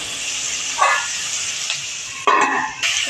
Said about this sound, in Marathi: थोडा कांदा परतून झाला की त्याच्यातच मी टोमॅटो टाकणार आहे